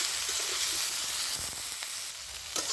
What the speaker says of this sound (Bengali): ভালো করে সবজিটা ভেজে নেব।